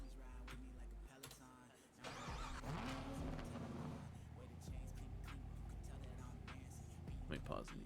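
An LT1 V8 engine on a car in a video game idles and revs with a steady low-pitched drone, while a person talks over it.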